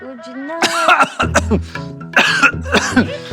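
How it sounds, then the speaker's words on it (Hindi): A child coughing in a run of harsh, throaty coughs with short gasps between them, close and loud, with some voiced wheezy sounds mixed in. "इतना खांस क्यों रहा है?"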